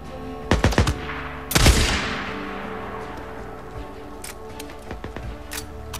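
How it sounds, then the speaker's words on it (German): Gunfire in Days Gone: a quick cluster of sharp shots, then one heavy blast with a long fading echo, followed by scattered fainter shots further off against steady background ambience. "Da hat aber einer rumgeballert, definitiv."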